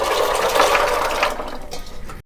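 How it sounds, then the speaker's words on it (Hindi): Soaked chickpeas and their water are tipped into a pressure cooker, a loud, splashing gush of pouring liquid that thins out and stops abruptly after about two seconds. "ऐसे पानी सहित। ये मेरा साफ़ पानी है, तो इनको इस तरह से पलट देते हैं कुकर में।"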